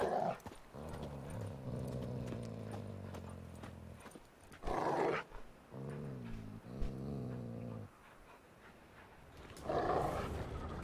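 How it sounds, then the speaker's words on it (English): Dogs growling in The Witcher 3: low, rumbling continuous growls with a few louder snarling bursts, close and unbroken, with no talking. "Just beware of the dogs."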